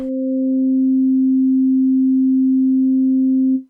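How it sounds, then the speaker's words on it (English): Yamaha Montage M AN-X synthesizer playing a pure sine wave with full ring modulation, a single steady clean tone with a faint upper partial, held about three and a half seconds before cutting off. "we're landing at the sine wave 1 octave higher if we fully apply the ring modulation on the sine wave"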